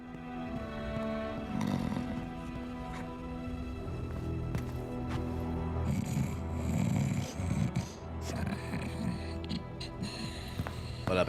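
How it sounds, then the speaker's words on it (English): A character snores in the Fable video game, with slow rasping breaths repeating beneath a busy game soundscape of music and movement. "Real snore mechanics?"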